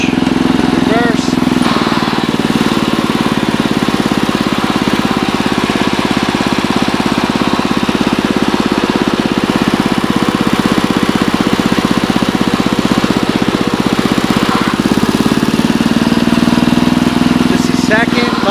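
A Bolens 1050 garden tractor engine running while the tractor is driven through its gears, a loud continuous mid-pitched putter with a steady throb and small shifts in pitch, and a voice heard over it.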